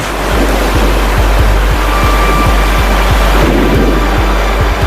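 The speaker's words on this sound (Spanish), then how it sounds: "Las rápidas cataratas son pequeñas cascadas. Aquí la corriente se vuelve muy rápida y peligrosa." Fast, dangerous rapids on a Nile cataract: a loud, steady roar of rushing water fills the whole scene, constant and close, with a regular low thumping underneath and no voices.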